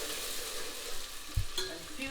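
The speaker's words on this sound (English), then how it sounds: "the 2 chopped onions that can go in now. So give that a little stir" Two chopped onions sizzle in hot oil in a dechi while being stirred, giving a steady close hiss broken by a couple of sharp scraping clunks from the spoon.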